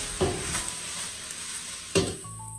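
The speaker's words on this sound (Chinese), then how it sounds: "充分的翻炒均匀，把萝卜丝表面的水分炒干，炒出香味" Shredded radish and chili being stir-fried in a wok: a steady sizzle with two sharp scraping stirs, no talking.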